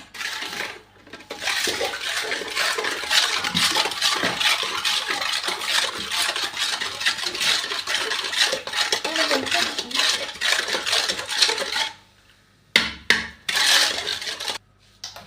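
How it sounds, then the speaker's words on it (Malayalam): A spoon stirs sugar into a drink, giving a steady run of rapid metallic clinks and scraping against the glass that carries on for several seconds, briefly stops, then returns in short bursts. "ഇനി നമ്മൾ ഇളക്കി കൊടുക്കാം"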